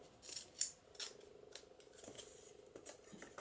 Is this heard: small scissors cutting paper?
yes